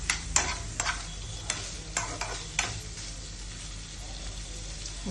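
Methi paneer frying in a pan gives a steady sizzle, broken by repeated scraping strokes of a spoon stirring at a quick, uneven rhythm, close and fairly loud.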